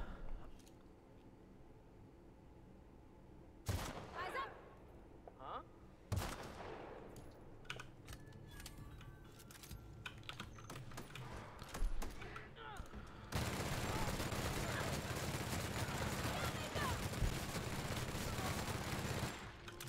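Rapid automatic gunfire from a weapon in the video game The Outer Worlds, a dense sustained burst after scattered earlier shots and clicks, loud and continuous for several seconds.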